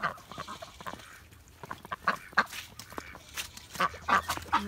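Peking ducks call outdoors in the snow, giving a scattering of quacks and honks at varied distances, some faint and some close, in short uneven bursts.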